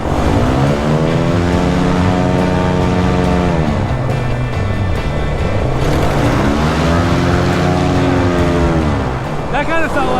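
An airboat engine runs loud and close on flooded ground, its droning roar sweeping up and down in pitch as the throttle rises and eases off, with voices talking over it.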